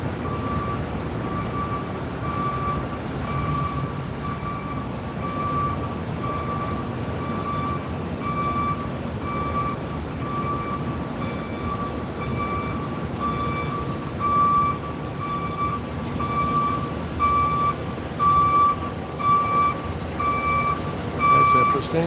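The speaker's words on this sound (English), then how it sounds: "and there's a black truck" A black truck reversing with steady, evenly spaced beeps repeating throughout, over a constant rumble of street noise, with a voice talking intermittently.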